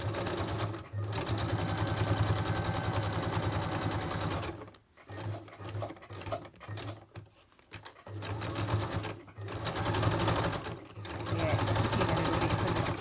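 A sewing machine stitches wet, painted cardboard in a close, continuous mechanical whir that stops and starts a few times, with brief pauses between runs.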